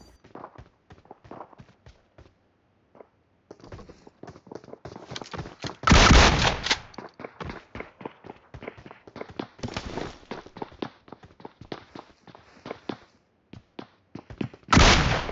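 Double-barrel DBS shotgun blasts in a battle royale shooter: loud, sharp booming bursts that stand out against lighter tapping footsteps and clicks, with a short rhythmic gap between them.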